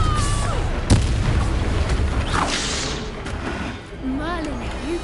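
A Confringo fire spell explodes in the Hogwarts Legacy video game as a sharp, loud boom near the start, followed by rumbling battle noise and game effects while voices speak over the action.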